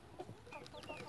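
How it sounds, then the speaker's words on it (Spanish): Newly hatched chicks peeping among broken eggshells, several faint high chirps scattered across the moment, thin and close against low background noise. "se escuchan pío pío"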